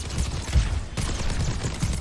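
Soldier's rifle in Overwatch 2 fires in a rapid burst, a dense close-up rattle of shots that runs through the whole moment without a break.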